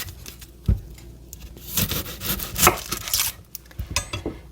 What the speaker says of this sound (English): So I'll just chop my onion.